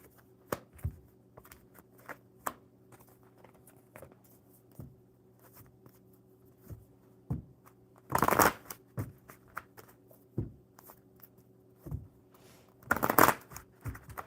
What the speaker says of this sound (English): All right, one more good shuffle.